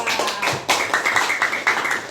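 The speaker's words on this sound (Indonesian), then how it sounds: "tepuk tangan untuk kelompok 2." Students in an Indonesian classroom clap for a presenting group, a short burst of quick, uneven hand claps heard close up and fairly loud.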